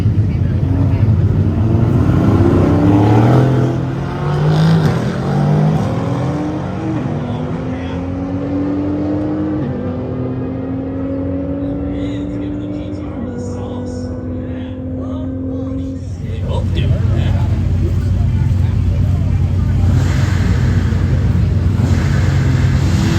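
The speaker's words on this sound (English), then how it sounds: "That's got a blower on it for sure." A street car with a supercharger blower at a street car takeover event, a loud roaring engine whose pitch sweeps and climbs as it revs, then drops into a steady rumble, with people talking over it.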